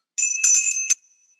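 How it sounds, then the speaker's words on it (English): A bright handbell rings to call children to supper, a clear close metallic peal lasting under a second with a short shimmering decay, heard alone. "how about ringing a bell?"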